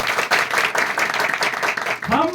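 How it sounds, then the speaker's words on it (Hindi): Church congregation clapping during worship, a steady rhythmic patter of many hands filling the moment, with a voice beginning to speak near the end. "प्रभु के लिए ताली मार दीजिए"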